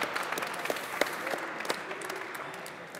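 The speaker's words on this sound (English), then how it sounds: "One more round of applause for these guys." Audience applause at a Hearthstone World Championship event, a steady round of clapping from a seated crowd filling the hall, even and moderately loud throughout without talk.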